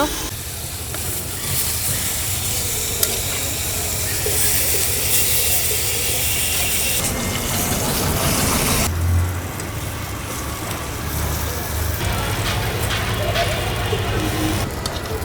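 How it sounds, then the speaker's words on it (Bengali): Slices of brinjal fry in hot oil in a pan, giving a loud, steady hiss of sizzling that carries on without a break. "মাছ ভাজি শেষ, এখন দিয়ে দিচ্ছি বেগুন।"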